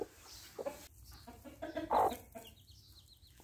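A hen clucks softly on a farm, mixed with faint chick-like peeps and rustling. A few louder calls stand out in an otherwise quiet, close-up scene with no talking.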